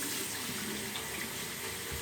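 Tap water runs steadily into a sink to rinse out a wet-shaving brush, a continuous close hiss and splash with no speech.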